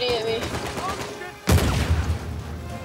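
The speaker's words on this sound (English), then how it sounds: "Oh, they're shooting at me." Enemy gunfire aimed at the player in Uncharted 4 erupts in a loud, dense volley partway through, following a stretch of game sounds with a voice talking, and rattles on close and heavy to the end.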